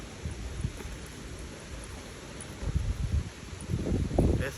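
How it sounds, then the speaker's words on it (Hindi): Leaves of a peepal tree rustle in gusts of wind on a morning walk in Rishikesh. The soft hiss swells and fades irregularly and grows louder in the final seconds, with no voices. "थोड़ी आगे पहुंच जाऊँ तो ये पत्तों की आवाज़ आ रही है"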